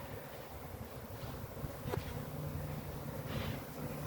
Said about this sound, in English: if I can get the bees off my hive tool